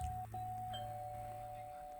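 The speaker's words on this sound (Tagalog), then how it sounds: "Uulitin na natin yung doorbell." A doorbell chime in the Roblox Brookhaven game, a steady sustained electronic ding tone lasting the whole moment over faint background hum, quiet overall.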